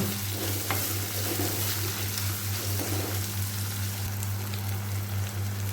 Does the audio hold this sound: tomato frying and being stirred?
yes